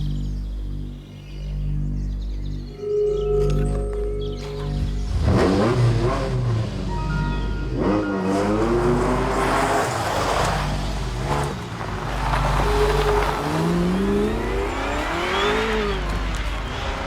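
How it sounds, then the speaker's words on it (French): A V8 sports car engine with a 280 km/h top speed, revving loud and close: repeated rising and falling swells in engine pitch over a constant low drone, with a brief dip near the start. "Moteur 8 cylindres. Vitesse de pointe, 280 km/h."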